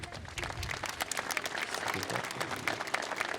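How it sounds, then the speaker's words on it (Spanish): Dense, sustained applause from a sizable crowd at a commemoration of the 200th anniversary of the Landing of the Thirty-Three Orientals in Uruguay, steady throughout with many overlapping claps and no break. "Un aplauso para ellos, por favor"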